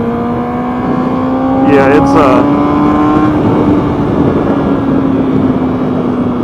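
A 2011 Honda CBR600RR motorcycle engine holds a steady, loud tone, rising briefly in a quick rev before settling back to a sustained drone, with wind noise and a short spoken word over it.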